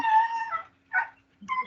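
A dog lets out a drawn-out whining yelp, then a short bark, then another whimpering cry, close and clear in otherwise quiet surroundings.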